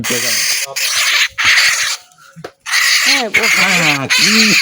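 A native parrot caught at night squawks loudly and close by in a string of harsh, rising calls, with a brief lull partway through before the shrieking resumes.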